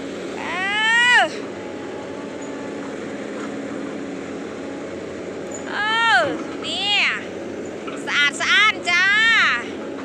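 A large cat meows in loud, drawn-out bursts, one near the start and a cluster of several toward the end, with a steady low rumble in the background and people talking around it.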